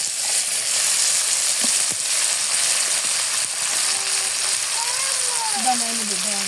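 Shrimp frying in a pan with onion, giving a loud, steady sizzle and crackle up close, with faint tonal squeaks and scraping toward the end.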